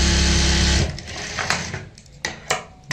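Sewing machine stitching a folded edge seam on a lace and pintuck neck design, a loud steady motor whir for the first second, then stopping, followed by soft handling clicks and rustles of fabric.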